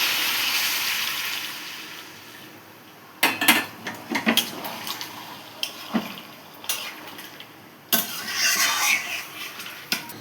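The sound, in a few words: hot water added to shrimp and yam curry in pan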